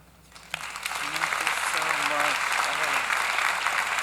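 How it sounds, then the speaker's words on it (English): Applause for a speaker at a foundation event, swelling quickly from quiet into sustained clapping from the crowd, while someone speaks over it at the same time. "Please give her a round of applause."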